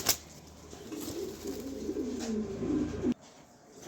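Large racer pigeons at a loft coo nearby in a continuous low, rolling murmur that swells gradually, then cuts off abruptly near the end.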